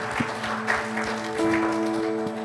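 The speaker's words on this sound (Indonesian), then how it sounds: "Mari beri tepuk tangan yang meriah bagi Tuhan kita." Congregation applauding at a Sunday afternoon church worship service, a moderate wash of clapping over steady organ or keyboard tones and faint background voices.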